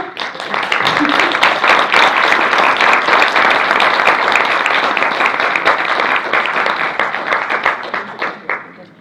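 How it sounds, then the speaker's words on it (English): An audience applauds a discussion panel at a Q&A event, sustained dense clapping that holds steady for several seconds before thinning into scattered final claps. "Can I round of applause for the panel?"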